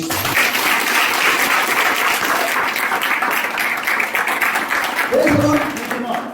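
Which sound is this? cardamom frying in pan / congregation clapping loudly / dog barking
congregation clapping loudly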